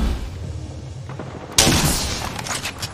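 A video game weapon fires in a sudden burst of rapid gunfire that breaks in after a quiet stretch and then trails off into scattered shots.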